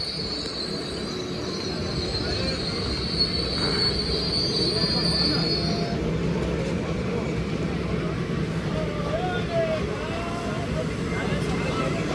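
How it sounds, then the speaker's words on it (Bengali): An express train rumbles steadily as it pulls away from a station, with a high wheel squeal in the first half and a voice faintly heard later. "কবিগুরু এক্সপ্রেস সিগন্যাল পেয়ে গেছে, ট্রেনে বেরিয়ে যাচ্ছে।"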